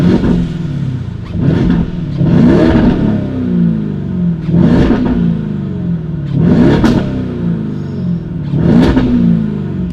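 Lamborghini Urus fitted with a Novitec exhaust revs hard in repeated bursts, each climb ending in sharp crackles and pops, loud and close with no talking.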